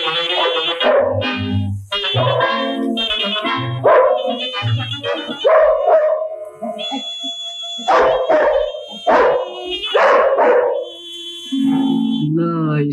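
Dog barks come in short bursts mixed with music and singing voices.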